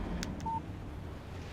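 A cell phone in the video game Alan Wake sounds a text message alert from Barry: a couple of quick electronic blips followed by a short, clear beep over a low hum.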